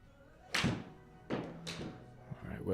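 A golf iron strikes the ball in a match, a heavy, slightly fat contact giving a dull thunk, followed by further thumps and faint voices nearby.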